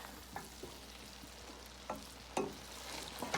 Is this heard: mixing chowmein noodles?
yes